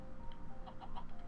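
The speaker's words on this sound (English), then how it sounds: "Yeah, so chickens can come out." Quiet clucks from Minecraft chickens in a video game animal pen, a short run of soft, quick cackles in the second half.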